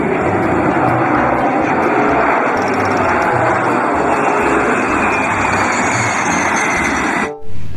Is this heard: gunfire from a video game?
no